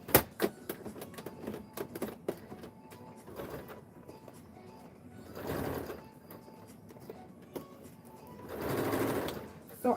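A sewing machine stitching a jacket runs in short bursts, with a louder sustained run near the middle and another toward the end, broken by clicks and handling noise at close range.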